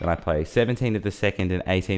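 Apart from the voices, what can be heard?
No distinct noise like a dog, phone or traffic.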